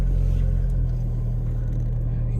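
A MEEP small electric vehicle driving, a steady loud low motor drone with constant hum and no pauses, heard from on board.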